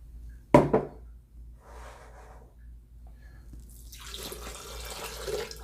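Water poured from a cup into sugar for simple syrup: a brief loud splash and clatter up front, then quieter trickling and a rising, hissing pour toward the end.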